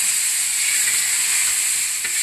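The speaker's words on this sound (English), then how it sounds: "we are going to start off with a little bit apple cider" Apple cider poured into a hot pan sizzles loudly, a dense, continuous hiss of liquid hitting hot metal that stays steady and close, with a faint clink near the end.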